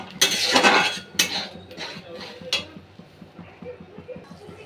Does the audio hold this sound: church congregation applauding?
no